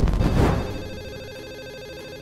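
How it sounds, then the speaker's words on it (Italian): A telephone rings with a loud, bright electronic tone that starts strongly and then fades into a sustained ringing tail, heard alone with no talk over it. "comunque ti sta suonando il telefono"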